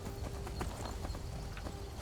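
Horse hooves clip-clop at a steady quick trot in the video game The Elder Scrolls V: Skyrim, even rhythmic thuds of moderate loudness with no talk over them.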